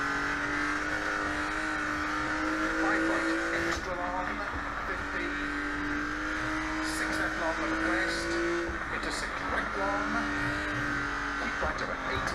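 A Porsche SC RS rally car in Dirt 2.0 on a Spain Centenera stage drones with a steady high-revving engine, its pitch rising and dropping through gear changes while someone talks over it.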